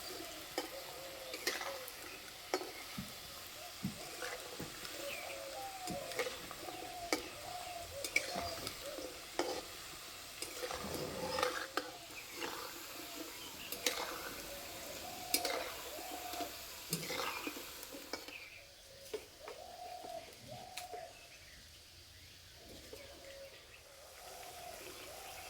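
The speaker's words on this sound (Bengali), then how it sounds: "একদম কম আঁচে নিমকিগুলো ভাজতে হবে।" Semolina nimki frying in oil over very low heat, a soft continuous sizzle broken by frequent light clicks and stirring taps, with faint bird calls in the background.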